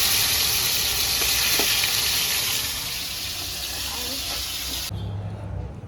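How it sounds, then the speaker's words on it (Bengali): Katla fish frying in a pan makes a loud, continuous sizzle close by that eases slightly before cutting off abruptly near the end. "মাছ ভাজা চলছে।"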